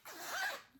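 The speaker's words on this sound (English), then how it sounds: "I should have left the zips undone" A clothing zipper is drawn closed in one quick, continuous zip lasting under a second, close and fairly quiet, with no talking.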